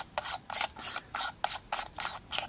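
The head of a Convoy C8 LED flashlight is screwed back on after its broken glass lens is replaced, a rhythmic series of about eight short, close gritty rasping turns of metal threads.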